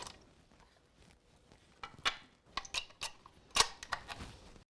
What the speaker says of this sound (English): we're going to insert the medium-sized julienne blade